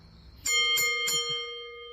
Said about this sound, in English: why don't we just ring the bell, get this thing started?